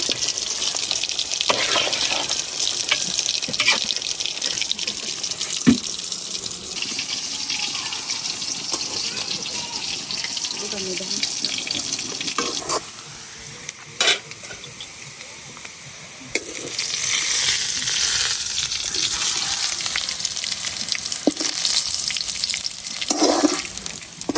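Beef curry frying in a pan gives a loud, continuous sizzle broken by stirring scrapes and a brief quieter stretch before the frying noise surges back.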